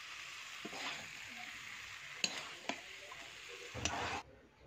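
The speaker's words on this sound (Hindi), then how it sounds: "इसी तरीके से इसको भी हम चलाते हुए पूरे मसालों को मिक्स कर लेंगे अच्छे से" Jackfruit curry with garam masala is stirred in a pan: a soft, steady sizzle with a few sharp clicks of a spoon against the pan, fairly quiet and ending abruptly.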